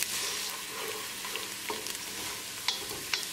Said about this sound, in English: now add onion. Mix it well and cook until the onions are nicely translucent